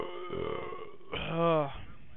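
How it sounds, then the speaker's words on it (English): A loud, long burp right after shotgunning an old beer, a drawn-out throaty belch rising in strength midway and fading, following a short bit of voice. "that burp he had was like a puke"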